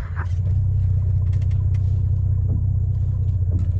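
A Mercedes W210 car drives along a road, heard from inside as a loud, steady low engine and road rumble with faint faraway clicks on top.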